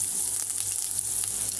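Onions going into hot oil in a wok give a steady, even sizzle close by. A faint hum runs underneath and there is no talk.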